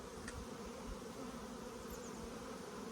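A dense, steady buzzing of many honeybees at a hive fills the clip, constant and close with no voices.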